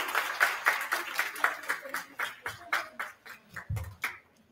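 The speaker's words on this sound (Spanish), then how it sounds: "Un caluroso aplauso a nuestra directora." Clapping for a school director at a school's Chingana festivities, a run of quick, close hand claps from a small group that keeps going for several seconds and then thins out, with a little voice sound mixed in.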